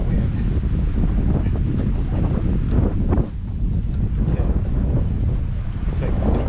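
Strong wind buffets the microphone aboard a boat out on the water, a constant roaring rush with gusting swells throughout and no talk over it.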